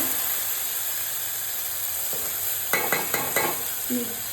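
Onion paste with ground chili, hing, curry leaves and garlic frying in a kadhai for a Maharashtrian matar batata rassa, a steady sizzle under a few near stirring scrapes of a spoon.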